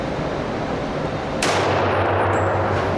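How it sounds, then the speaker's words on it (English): A single loud, close pistol gunshot cracks sharply and is followed by a ringing echo that decays slowly, from a 1920s-era handgun fired outdoors at a range. "You shoot it like a regular pistol, okay?"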